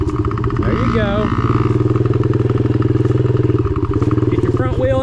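Yamaha PW50 dirt bike engine revs loudly and steadily up close on a practice track, a buzzing two-stroke drone that rises and falls while a man calls out instructions over it.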